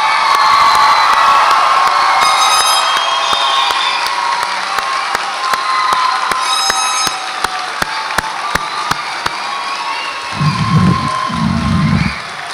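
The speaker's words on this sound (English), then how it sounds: "how about a big round of applause for all of our graduates?" Audience at a spring nursing graduation ceremony in an auditorium claps and cheers for the graduates, a dense, loud crowd roar with whoops and shouts running throughout, plus a few low thumps near the end.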